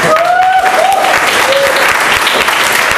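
Loud, sustained applause from a large audience at a network business training session, a dense steady roar of clapping filling the room with faint tonal whistles over it and no speech.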